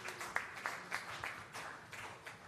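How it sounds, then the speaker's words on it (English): Guests at a national SDGs launch event applaud the arrival of Uganda's Prime Minister; soft, scattered clapping with a few distinct claps standing out, heard faint and distant. "A round of applause as we receive our chief"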